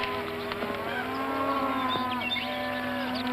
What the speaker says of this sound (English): those sure are fine-looking cattle you got there, Hoppy.